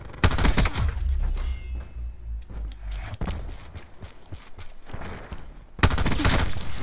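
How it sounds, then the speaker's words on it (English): Gunfire from an M16 in the video game Black Ops 4, loud rapid bursts at the start, again partway through and at the close, with quieter game noise in between. "So I'm gonna shoot probably like 20 more bots"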